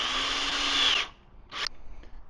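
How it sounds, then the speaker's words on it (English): A power drill drives a screw into a car's carbon fiber body part, a loud steady whine for about a second that stops abruptly, followed by a few short clicks and handling noises. "So I went and got a real drill"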